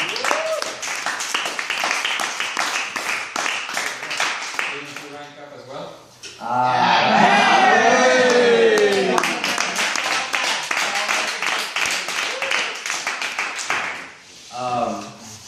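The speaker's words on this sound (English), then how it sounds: "So give all of yourselves a round of applause." Clapping from a group at a sales training event, rising to a fuller burst of applause with excited shouting midway, while people keep talking over and around it.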